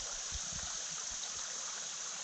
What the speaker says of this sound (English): water's still flowing good